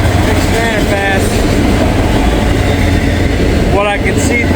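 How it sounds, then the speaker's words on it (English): A fast CSX freight train with auto racks rushes past on a rainy day, a loud, continuous rumble and rattle of railcars close by, with brief squeals of wheels on rail over the roar. "Another CSX train. Whatever it is. It's kind of fast."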